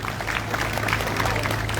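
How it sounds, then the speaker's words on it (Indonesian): A crowd at an evening political rally applauds for young people, a continuous, dense clapping over a low steady hum, holding level for the whole brief moment. "Tepuk tangan buat orang muda."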